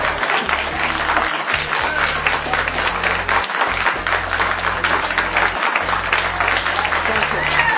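An audience applauds a speaker at a debate on terrorism, producing dense, steady clapping that fills the whole stretch at an even level, with a low droning tone underneath.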